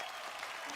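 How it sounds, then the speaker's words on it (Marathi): Dense audience applause from a televised Marathi dance competition show fills a brief moment, a steady wash of many hands clapping at moderate distance with no break. "जोरदार टाळ्या."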